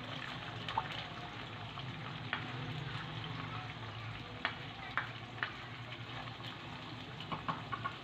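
Two onions fry in oil in a pan for a spicy gravy, giving a steady, soft sizzle with occasional small pops and stirring clicks and no talk.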